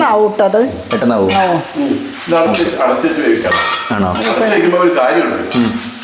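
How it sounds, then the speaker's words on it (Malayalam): A spoon stirs chicken roast sizzling in a pan, with steady frying hiss and repeated metal scrapes and clinks, loud and close, while people talk over it throughout. "ഇളക്കി കൊടുക്കണം ഇടയ്ക്കിടയ്ക്ക്"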